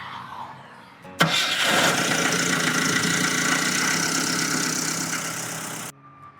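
A 30-year-old Mitsubishi Montero with 450,000 km catches on the first crank and settles straight into a steady, loud idle, heard up close with no talking.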